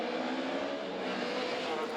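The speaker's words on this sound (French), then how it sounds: "Avec la Ford Fiesta de Mandikas qui prend le meilleur départ devant l'Honda de Ben Descender." Rallycross race cars, including a Ford Fiesta and a Honda in the under-2-litre class, race in Belgium, their engines making a loud, steady high-revving roar that holds at close range for the whole stretch, with no voices heard.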